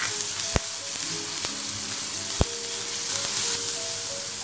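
Raw mango and rice mixture sizzling in a hot pan while a spoon stirs it, with a steady frying hiss broken by a few sharp scraping knocks against the pan, close and with no talking.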